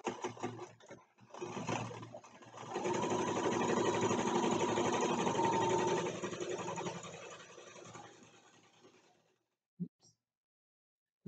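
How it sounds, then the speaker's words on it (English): A sewing machine stitches through the layered fabric of a quilted mug rug, running in a steady, close whirring burst for several seconds before slowing to a stop, followed by a couple of faint clicks. "sew all this together."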